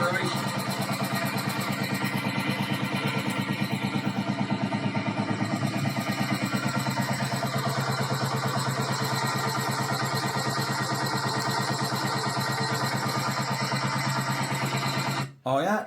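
Restored vintage tractor engine running steadily at a loud, close idle, an even rhythmic chugging throughout that cuts off abruptly near the end.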